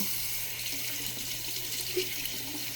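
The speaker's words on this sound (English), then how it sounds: "We're going to use this sponge and we're going to wet it." Tap water running steadily into a sink to wet a makeup sponge, a continuous even hiss of flowing water with a faint low hum underneath and no talking.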